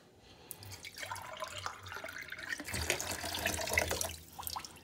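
Water pours and trickles from a tap into a container while kwek kwek batter is being mixed at home, a close, continuous splashing stream that swells and fades over several seconds, with no talking.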